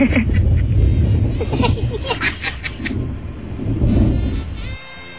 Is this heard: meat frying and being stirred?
no